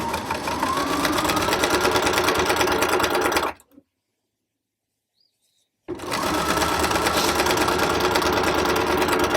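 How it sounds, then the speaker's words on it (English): A smaller sewing machine top stitches a mock-up bag, running loud and close in a steady whirring burst, cutting out for about two seconds of silence, then starting again. "I'm just going to do a little bit of a top stitch here and move on"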